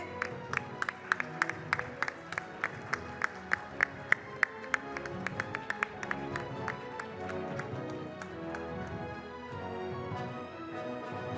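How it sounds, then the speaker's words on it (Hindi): Audience applause at the TV9 Satta Sammelan 2024 event: steady rhythmic clapping in unison for several seconds, gradually loosening into a diffuse, continuous patter of hands heard at a moderate distance. "तालियां रुकनी नहीं चाहिए।"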